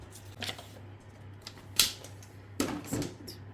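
Card-kit paper being trimmed to size, a few sharp separate clicks and snips spaced irregularly against a quiet background with a low steady hum.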